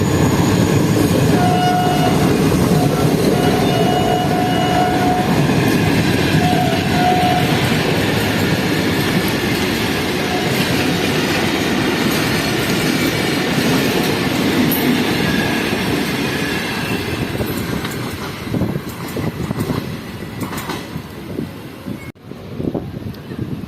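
The Khyber Mail express train arriving at Drigh Road Junction station in Karachi rumbles steadily and loudly close by, with a horn-like tone sounding a few times early on, the roar easing slightly toward the end.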